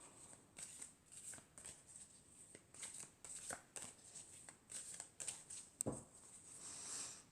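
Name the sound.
tarot cards being shuffled and drawn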